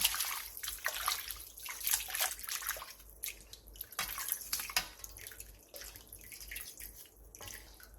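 Blanched bellflower root rinsed under cold running water and left to drain, a faint splashing trickle with irregular drips and water rushes, close and quiet.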